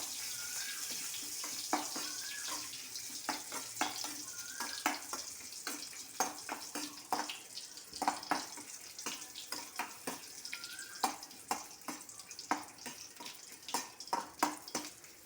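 Chopped shallots and curry leaves sizzle in a pan for a Kerala-style ripe mango curry, giving a faint, continuous crackling hiss with scattered small pops and the occasional stir, no talk heard.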